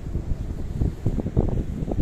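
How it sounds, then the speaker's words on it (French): Cold wind gusts across the coast near Alicante at Cala Ferris, a steady low buffeting rumble pressing on the microphone in uneven surges, with no voices. "ça souffle là, il y a le vent il est froid là"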